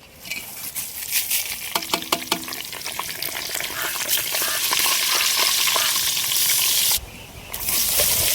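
Cinnamon bark and whole spices frying in hot oil for a village-style Tamil fish curry, a steady crackling sizzle with sharp pops and stirring clatter near the start, growing denser and louder, briefly cut off before resuming.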